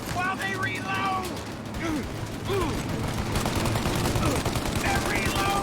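Gunfire in a Mafia: Definitive Edition shootout, with rapid bursts of automatic weapons and scattered single shots mixed with ricochet-like whines, continuous and fairly loud throughout, with a voice shouting over the battle.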